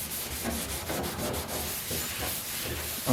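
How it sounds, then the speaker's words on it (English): A Scotch-Brite pad scrubs the surface of a Mercedes W108 trunk lid during a wash, a close, rhythmic rasping rub in repeated back-and-forth strokes, fairly quiet and without talking. "I like to use a Scotch-Brite just to help, you know, break up surface tension and make sure we get these a good clean scrub"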